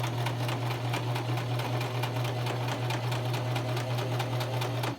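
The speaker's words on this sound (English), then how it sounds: "You're just going to start right in the middle and you're going to do a quick back stitch and then stitch to the end." A sewing machine runs steadily, back stitching a face mask. Its motor drones continuously and its needle ticks rapidly, close and loud, with no pauses and no talk.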